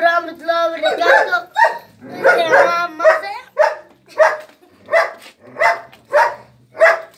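A dog barks loudly nearby in a run of sharp, evenly spaced barks, busier and more overlapping at first, then settling into a steady repeating rhythm.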